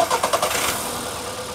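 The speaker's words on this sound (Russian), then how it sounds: "Давайте заведем и послушаем, как работает мотор." A Škoda Rapid engine cranks in a few quick bursts, then catches and settles into a steady, quiet idle.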